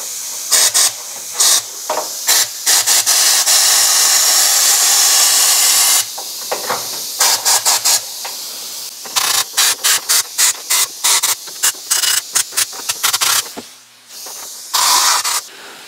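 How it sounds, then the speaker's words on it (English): A sprayer blasts a fine mist of rust-proofing product, a loud steady hiss for several seconds, then a string of short, repeated bursts with brief gaps between them. "it just sprays a fine mist of this stuff out"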